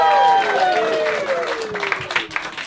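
A studio audience gives another round of applause for a contestant, a burst of clapping that trails off quickly while a host talks over it.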